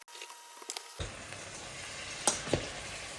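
Vegan mince frying in a pan for a Greek moussaka, a steady close sizzle that starts abruptly after a quiet moment, with a couple of brief clinks from stirring.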